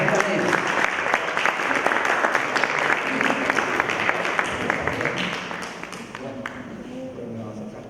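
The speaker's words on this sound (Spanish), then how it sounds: "un aplauso para él, don José Luis Arroyo" A hall audience at a cultural-week lecture applauds José Luis Arroyo, sustained, full clapping that thins and fades toward the end as a voice starts up over it.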